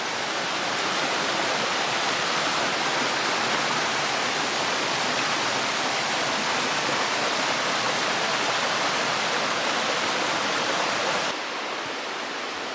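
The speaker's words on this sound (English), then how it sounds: "I just got done with another stream crossing that you can hear kind of down below me" Mountain stream rushing somewhere below a forest trail, a steady broadband roar of flowing water that continues unbroken and fairly loud, dropping slightly near the end.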